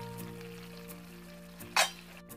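Leftover chicken tikka marinade masala frying in a pan, a low continuous sizzle with a steady hum behind it and one short, sharper burst of spattering near the end.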